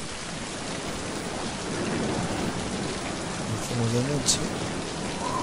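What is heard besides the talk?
rain in video game Mind Path to Thalamus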